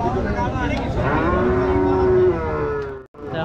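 A cow at a cattle market gives one long, loud, close moo that rises and slowly fades, with market noise around it.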